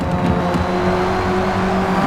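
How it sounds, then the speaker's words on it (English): A Sierra RS 500 race car's engine holds a steady, loud, droning rev on track during a race, a continuous buzzing tone with little change in pitch. "pay attention to the revs of your engine"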